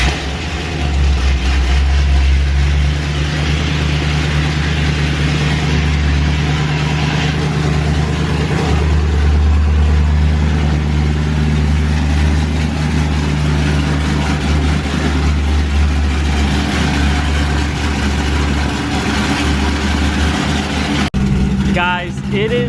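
Straight-piped, cammed Ford Mustang GT V8 idling loud and close with a deep, steady rumble that holds throughout, with no other sounds breaking through.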